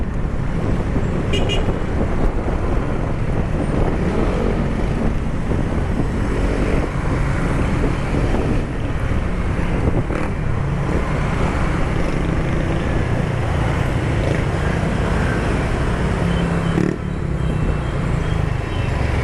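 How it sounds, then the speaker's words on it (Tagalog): Road traffic rumbles continuously and fairly loud around the recording position, a dense wash of passing vehicles with wind buffeting and a brief horn-like toot early on. "traffic, traffic."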